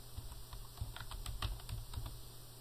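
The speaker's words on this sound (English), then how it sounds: "I'll type in corporate." Soft, quick keystrokes on a computer keyboard, a short run of irregular taps close by and quiet over a faint steady hum.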